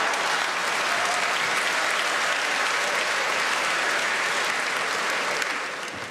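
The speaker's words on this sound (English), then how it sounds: "A couple of the gentlemen there started clapping before the end of that joke" A comedy club audience bursts into sustained clapping, a dense, loud wash of many hands that holds steady for several seconds before beginning to taper off.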